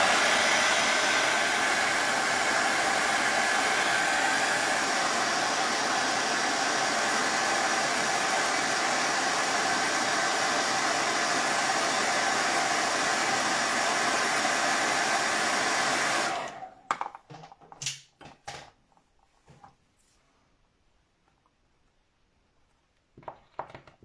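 A hair dryer blows steadily on a wet painting as a loud, constant whoosh for about sixteen seconds, then cuts off, leaving a few faint clicks and handling noises.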